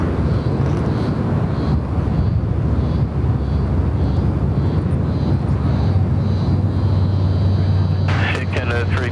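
An airliner departing from Sydney Airport's left runway roars steadily and loudly close by, a broad continuous engine rush filling the whole clip, with a brief rattle near the end.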